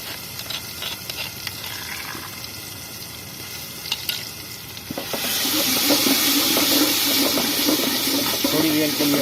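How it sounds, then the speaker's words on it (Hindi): Ginger garlic paste, three to four spoonfuls, hits a pan of lightly fried whole spices for a traditional chicken dish, with quiet stirring first and then a sudden loud, steady sizzle for the last few seconds. "थोड़ी देर के लिए अदरक को भून लेंगे।"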